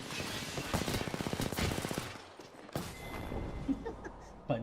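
Automatic gunfire in the Apex Legends battle royale game, a dense burst of rapid shots for about two seconds followed by scattered single cracks and game noise at moderate loudness.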